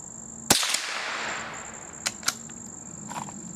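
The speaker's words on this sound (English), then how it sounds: "I'm going to shoot to the left of that orange target a little bit." A single sharp rifle shot of Remington Golden Bullet ammunition fired at an orange target outdoors, loud and close with a fading tail, followed by a couple of fainter clicks or impacts.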